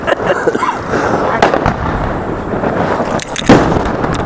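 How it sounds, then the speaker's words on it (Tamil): Firecrackers bursting outdoors in a festive backyard celebration, loud sharp cracks and pops over a dense crackling wash, with a few stronger bangs standing out, while people talk and call out in the background. "இது கீழே இந்த வெடி நான் வைக்க போறேன்."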